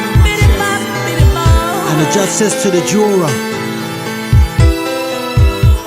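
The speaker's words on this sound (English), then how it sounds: "And I can feel my heart beating in my chest." A heartbeat sound effect beats as deep, booming paired thumps in a slow rhythm, dropping out briefly and then returning under a voice speaking.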